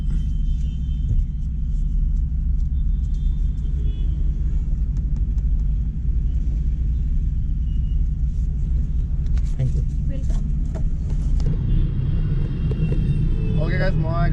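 A car is driven along, its engine and road noise forming a steady, heavy low rumble heard from inside the cabin throughout, with faint sounds of activity near the end.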